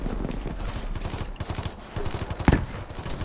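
Rapid gunfire from the Black Ops 3 video game rattles in dense bursts of sharp reports, with one louder shot standing out near the end, and no voices over it.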